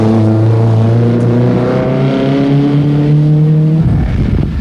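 Nissan rally car engine at the 1987 Zimbabwe Challenge Rally, its gearbox strained after long clutchless running: a loud, steady droning engine note holding pitch, then dropping off abruptly near the end, close and without talk.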